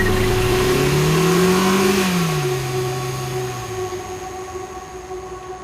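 A car engine revs hard and accelerates away, pitch rising then falling as it pulls off quickly and fades slightly into the distance.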